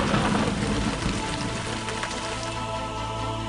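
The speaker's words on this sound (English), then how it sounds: "The sky goes dark, clouds come in overhead, the rain comes down" Steady rain pours down in the video game Ultima IX: Ascension, a dense continuous patter of drops on surfaces, loud and even throughout with no other sounds.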